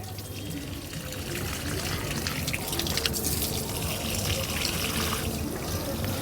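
Water poured onto freshly repotted hibiscus tissue-culture plantlets, a steady broadband splashing and trickling that runs continuously and close at moderate loudness, with a voice speaking over it.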